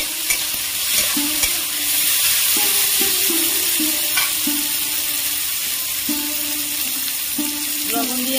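Onion, garlic, green chili and chopped tomato fry in hot oil for a fish curry, a steady sizzle broken by the scrape and clink of a spoon stirring the pan.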